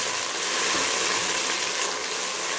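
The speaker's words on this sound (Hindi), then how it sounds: "तकरीबन 1/2 कप से भी कम मैंने पानी डाला है, सिर्फ प्याज को जो है वो तड़का लगाने के लिए" Less than half a cup of water poured into a pan of golden frying onions, giving a continuous loud, bright sizzling hiss that holds steady throughout.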